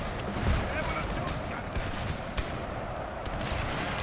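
Musket volleys in the Total War: Thirty Years War video game, with a Habsburg army fighting: a dense, continuous rumble of massed gunfire and crackling shots, steady and loud throughout.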